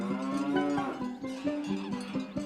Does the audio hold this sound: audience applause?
no